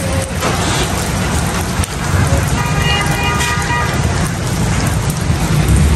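Steady heavy unseasonal winter rain pouring down, a dense constant hiss close by, with a brief tonal horn-like sound partway through and faint voices beneath.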